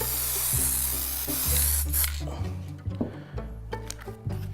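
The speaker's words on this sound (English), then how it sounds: "Again, layer and spray again over the top." Spray bottle misting over static grass layered on a model hill embankment: a sustained hiss of spraying at the start, followed by softer handling sounds and intermittent short bursts, heard close alongside background music.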